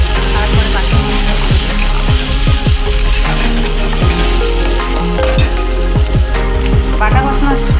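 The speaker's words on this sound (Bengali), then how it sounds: "বাটা মশলাটা 5 মিনিট আমি কষে নেব" Ground spice paste fries in a pan, a loud, steady close-up sizzle broken by repeated scraping and stirring strokes that keep an even rhythm throughout.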